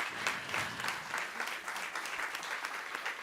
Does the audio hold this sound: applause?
yes